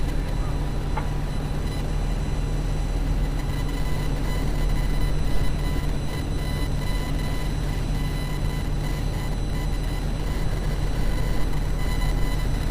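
A train runs past a three-railroad junction on a gray day, a continuous heavy rumble with steady low drone and rail noise throughout, no break in the sound.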